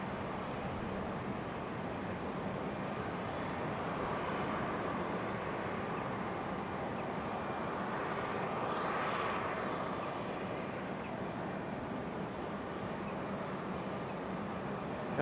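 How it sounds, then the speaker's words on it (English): Boeing 757 jet airliner departing from the runway at Raleigh-Durham International Airport, a distant, steady broadband engine roar that holds for the whole stretch and swells slightly midway. "Great sounding departure out of that 757."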